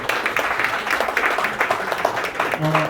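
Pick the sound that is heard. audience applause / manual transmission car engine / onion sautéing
audience applause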